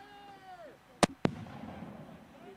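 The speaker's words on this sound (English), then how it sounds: "we got some mortar teams" Mortar fire in military footage, two sharp loud launch blasts in quick succession standing out from a quiet background.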